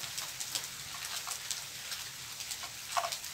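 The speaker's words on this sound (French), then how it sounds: "Je suis en train de prendre une bonne averse." A rain shower falling outdoors, a dense steady patter of drops striking nearby surfaces, with a few sharper drips standing out toward the end; no one speaks.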